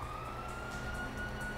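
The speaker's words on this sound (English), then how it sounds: "you hear that? Sirens." Police sirens in the video game Grand Theft Auto V, a thin rising wail sounding far off and faint beneath a low rumbling background, with no voices.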